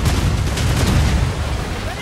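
Ship cannons firing in Assassin's Creed Rogue, a dense run of heavy booms and blasts rolling together with low rumble throughout, loud and close.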